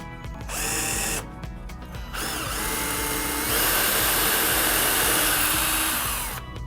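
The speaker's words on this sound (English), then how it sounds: "drill a pilot hole from the bottom rung into the wobbly leg" A power drill whirs in close bursts, stopping and starting, then runs longer as the bit bores a pilot hole into a wooden chair leg, with no voices.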